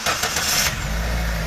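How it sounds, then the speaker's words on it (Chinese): A car engine, just overhauled to fix oil burning and cylinder knocking, cranks briefly, then catches and settles into a loud, steady, close running rumble. "发动机完美启动"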